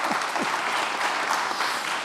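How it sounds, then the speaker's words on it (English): A crowd at a book festival claps for debut writers, with dense, sustained applause filling the whole moment at an even level and a faint voice underneath. "can we have a round of applause for our debut writers?"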